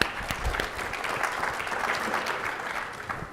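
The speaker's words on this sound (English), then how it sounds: "let's give him a round of applause to start" Conference audience applauding a panel speaker at an Alzheimer's discussion, a short burst of steady clapping from a seated crowd, moderately loud and continuous.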